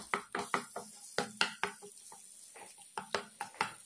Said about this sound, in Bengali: দেখো বাটাটাকে এইভাবে নাড়িয়ে দিচ্ছি